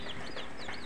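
Newly hatched chicks in a carton incubator peep continuously with high, wavering chirps, close and steady through a short moment.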